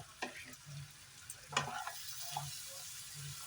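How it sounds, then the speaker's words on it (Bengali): Chilli chicken with spring onion greens is stirred and fried in a pan: a soft, close sizzle with several distinct scraping stir strokes and light spatter, fairly quiet overall. "একটু নেড়ে চেড়ে একটু ভাজা ভাজা হয়ে গেল"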